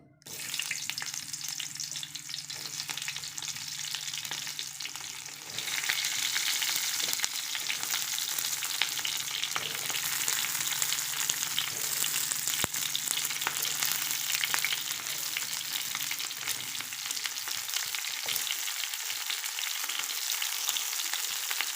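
Onions fry in hot oil in a pan for a paneer dish, giving a steady close sizzle with soft crackle that builds slightly after the first few seconds and continues without speech.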